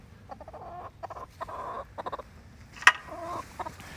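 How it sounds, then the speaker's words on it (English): Chickens clucking in a farm coop, a series of short close clucks and murmurs in uneven bursts, with one sharper squawk partway through and no talk. "I'm going in here to feed the rest of the chickens and let them out"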